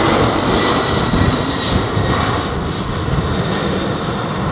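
Aircraft at London Heathrow Airport, a loud, steady broadband engine roar filling the whole clip without pause, close and unbroken.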